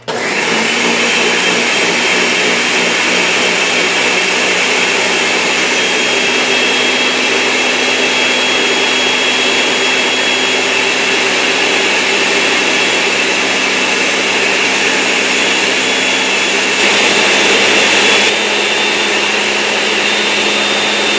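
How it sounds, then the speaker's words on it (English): A blender whirs at full power for about twenty seconds while blending cashews into vegan cheese, a loud, steady, high-pitched motor roar close to the mic, unbroken and with no voices. "now I'm just going to blend, and I let it blend for 2 minutes"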